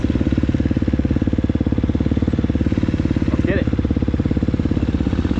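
KTM 250SXF four-stroke dirt bike engine at a motocross track, a loud steady rhythmic thump at constant pitch throughout, with a brief higher tonal sound partway through.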